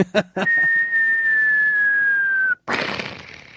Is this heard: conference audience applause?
no